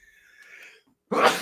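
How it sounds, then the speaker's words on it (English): A single loud, sharp human sneeze bursts out near the end after a stretch of quiet breathing, close to the microphone. "sorry, I'm going to sneeze."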